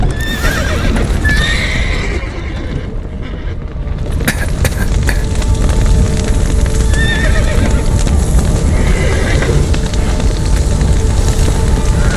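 In The Witcher 3 video game, horses whinny and hooves clatter in a steady galloping rhythm, loud and close, over a constant roaring rumble like fire and commotion from a collapsed burning building.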